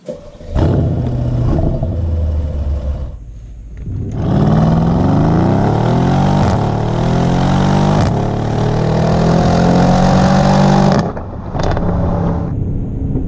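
A powerful Mercedes-AMG GLE 63 S SUV engine roars as it accelerates hard, pitch climbing through gear changes, loud and close, then drops back to a burbling idle.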